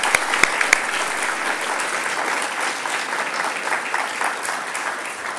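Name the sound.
audience applause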